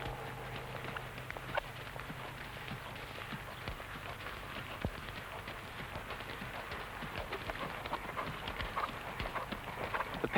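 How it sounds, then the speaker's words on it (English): Soft, fairly distant hoofbeats of a young horse under a rider patter steadily through a faint, noisy outdoor background, with no voices. "The paces of the horse are the development of his natural movement."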